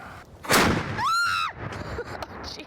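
A Revolutionary War cannon fires at a battlefield reenactment in Camden, South Carolina, giving one sharp, loud boom followed by a rising whistle-like tone and a decaying rumble.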